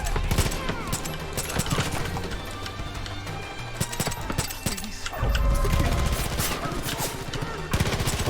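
Dense, continuous gunfire in the Far Cry 5 video game: rapid automatic bursts and single shots crackle loudly throughout, with heavy booms and impacts layered over music and game effects.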